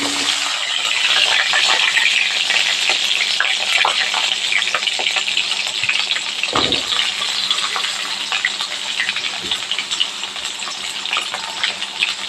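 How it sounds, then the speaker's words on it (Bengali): Potatoes frying in hot oil in a home kitchen, a steady loud sizzle with a dense hiss and occasional stirring knocks, close up and continuous, no talking. "এবারে এই তেলেতেই আলুগুলো দিয়ে দেবো।"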